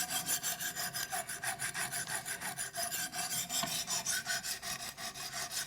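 Knife blade being sharpened on a Wicked Edge guided sharpener, working the opposite side to raise a burr; quick, regular scraping strokes of abrasive on steel, close but fairly soft, with no talk.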